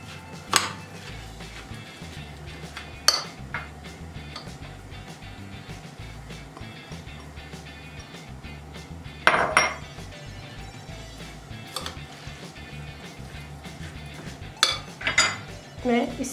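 Spices are stirred into a cabbage roll filling in a bowl, with a spoon clinking and scraping against the dish in a few sharp knocks over a steady low kitchen background.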